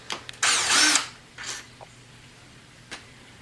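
A Harbor Freight impact wrench fires one short loud burst on an engine build for a Volkswagen MK4 GTI, followed by a couple of brief quieter rattles and clicks in an otherwise quiet garage.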